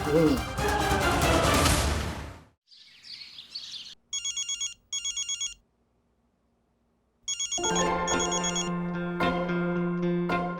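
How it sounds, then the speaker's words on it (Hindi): A mobile phone ringtone plays in short repeated electronic bursts after a stretch of talk, then continues as a melodic tone under voices. "तुमने सेम रिंगटोन क्यों रखी है? मुझे लगा मेरा फोन बज रहा है"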